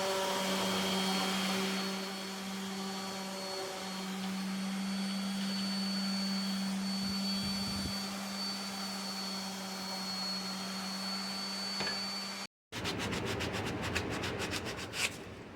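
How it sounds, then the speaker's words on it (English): An electric sander runs steadily on a wooden snowman being built, a loud continuous hum with shifting grinding texture for about twelve seconds, then stops abruptly before a burst of scraping, rubbing noise. "I'm going to blend all this in with my sander."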